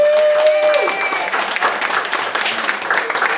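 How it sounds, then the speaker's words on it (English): A small house-party audience at a holiday hypnosis show breaks into applause, a dense patter of clapping that swells and continues throughout, with a sustained tone and some voices mixed in near the start. "Let's give them all a big round of applause."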